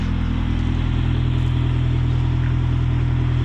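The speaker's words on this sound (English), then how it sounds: "This one has a powerful engine." An off-road vehicle engine runs steadily at a loud, constant idle with a throbbing low rumble and no voices.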